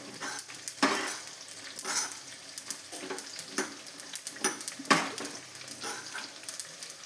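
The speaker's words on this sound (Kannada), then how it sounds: "ಸಾಸಿವೆ ಪಟಪಟ ಅಂತ ಇದೆ." Mustard seeds crackling and popping in hot oil in a home kitchen pan, a fairly quiet run of sharp irregular pops and spits with a few utensil clinks, no talking.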